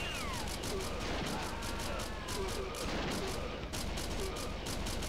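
Rapid pistol gunfire in the arcade shooter Virtual Cop 2 rattles out as a fast, steady stream of sharp shots lasting several seconds, with whooshing and ricochet-like effects woven through.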